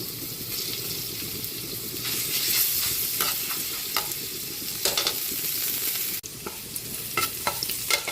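Garlic sautés in hot oil in a pan for adobong sitaw, giving a bright, steady sizzle broken by scraping stirs and a few sharp crackles. A brief clatter comes near the end, with no voices.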